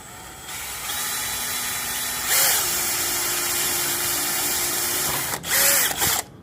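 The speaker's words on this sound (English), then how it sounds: "I'm just going to try to hold this with my hand and start drilling this hole out." A power drill whines steadily through soft aluminum, pausing briefly and then revving again in short bursts near the end, close and loud with no talking.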